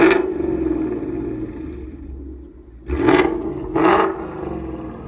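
A six-speed car with an aftermarket exhaust and no rev limiter revs up twice in loud, sharp bursts. A rumbling idle holds steady before, between and after the revs.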